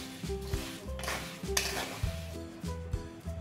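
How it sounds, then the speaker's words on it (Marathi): Half a kilo of jaggery with half a cup of water heats into syrup in a pan. A continuous close sizzle with stirring scrapes runs over a low, steady droning tone. "अर्धा किलो गूळ घेतलाय आणि याच्यामध्ये अर्धी वाटी पाणी घालणार आहे मी, आणि हे मेल्ट करून घ्यायचं, याचा थोडासा पाक करून घेते।"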